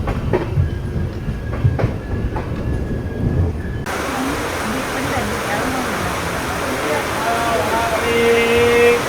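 Tirunelveli to Mangaluru Express arriving at Palani station platform, a steady loud rumble of rolling wheels with faint clicks at first, then a denser roar that continues to the end.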